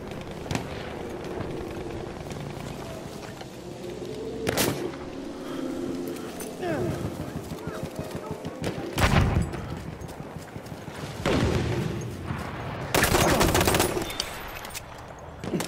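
Gunfire in the World War I shooter Battlefield 1 on the Monte Grappa map in Conquest mode, with scattered rifle shots and bursts of automatic fire at varying distances, some loud and close, mixed with voices and battle noise.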